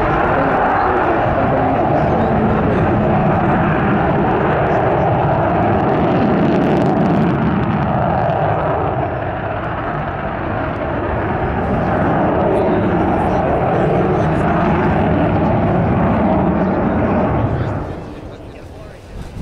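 An Avro Vulcan bomber roars overhead during a flying display at RIAT 2012, a loud, sustained, rumbling jet engine sound that swells and shifts before fading near the end, with a commentator talking over it.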